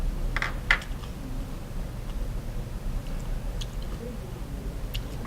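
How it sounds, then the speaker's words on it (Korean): Someone chews crunchy, lightly cooked bean sprouts from braised monkfish (agujjim), with soft, moist crunching bites repeating close up over a steady low background hum. "콩나물이 아삭아삭하니 익히긴 익혔는데 예. 식감이 정말 좋네요."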